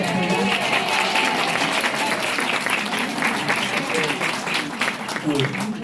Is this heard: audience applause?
yes